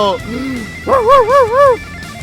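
Police dog barking in a Soviet-themed real-time strategy game (Yuri), a short series of loud, wavering yelps close up, following a speaking voice at the start.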